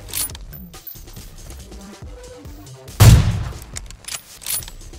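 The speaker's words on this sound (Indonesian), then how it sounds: "Belakang ada tembakan." Gunfire in the battle royale game PUBG: a sharp, loud burst of shots cracks out midway through the clip over a background of scattered game noise, with no talk.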